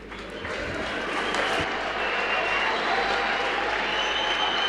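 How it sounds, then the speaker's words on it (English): An indoor audience at a youth camp panel session claps steadily, a dense patter of many hands that swells slightly and holds, with some voices mixed in. "with the way people are clapping"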